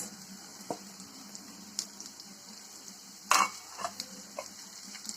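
Steady sizzling of finely chopped carrots and beans frying in a pan, with scattered scrapes and clinks of stirring and one louder clatter partway through.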